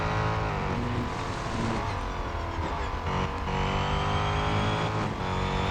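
Mercedes-Benz AMG GT3 race car engine in the video game Real Racing 3, a loud, continuous high-revving roar with shifting pitch and no talk.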